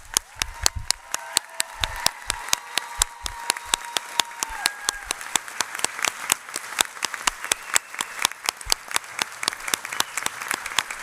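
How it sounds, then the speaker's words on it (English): Sustained applause from a large audience at a registered nurses pinning ceremony, dense steady clapping throughout with no talk over it. "let's give our students a round of applause"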